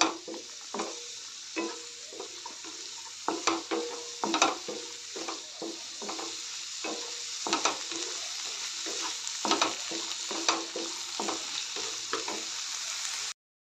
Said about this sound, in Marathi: ते सर्व मी कढईमध्ये घालून थोडंसं तांबूस रंग येईपर्यंत परतून घेऊया।